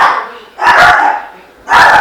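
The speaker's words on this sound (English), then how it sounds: "Dogs, quiet!" Dogs bark in two short loud bursts close by, with a pause between, indoors during a countertop clear-coat job.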